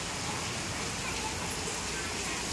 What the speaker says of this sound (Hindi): पर ये देखिए बारिश अच्छी तेज़ हो रही है, खूब बढ़िया।